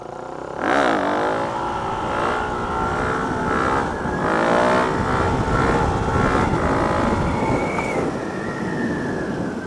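A motorcycle engine holds a wheelie, the throttle eased on and off so the revs swell and sag in wavering sweeps, loud and close with wind noise and a brief higher whine near the end.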